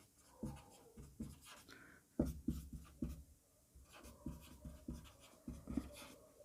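A pen writes the word polynomial by hand on paper, giving faint scratchy strokes in quick irregular bursts with short pauses, quiet and close.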